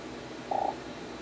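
A short pop sound effect from the Scratch programming tool plays once, brief and soft, on its own.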